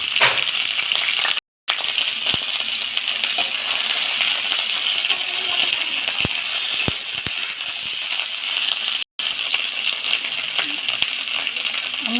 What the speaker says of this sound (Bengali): এটা গরম হয়ে গেছে, আমি এবার ফুলকপিটা দিয়ে ভেজে নিচ্ছি।